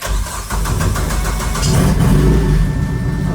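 A car engine cranks briefly, then catches and settles into a loud, steady idle close by, rumbling continuously to the end.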